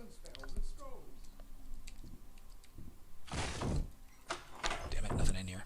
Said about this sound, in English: Let's try and batter down this door.